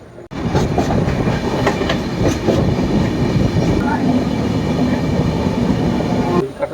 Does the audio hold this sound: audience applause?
no